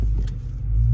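A 2022 Dodge Charger R/T driving on the morning commute, heard from inside the cabin as a loud, steady low engine and road rumble that swells slightly toward the end, with no talk.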